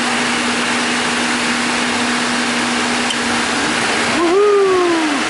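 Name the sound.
2016 Nissan Rogue cooling fans running in high mode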